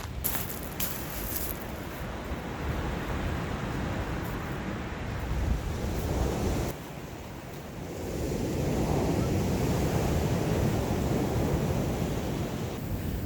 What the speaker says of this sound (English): You can hear the waves crashing all around, even though I can't even see the beach yet.